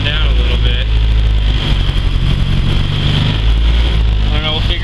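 The engine of a 400hp Honda Civic race car idles loudly at its first start-up of the season. Its steady, heavy drone rises and falls slightly as the idle surges, and someone talks over it.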